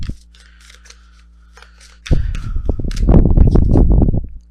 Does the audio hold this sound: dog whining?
no